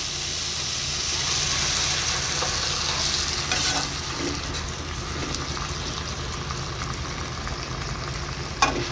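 Chicken pickle (achar) with turmeric powder sizzles and fries in a pan after water is added, a steady broadband hiss with occasional stirring scrapes and a sharp clink near the end, close and alone without talk.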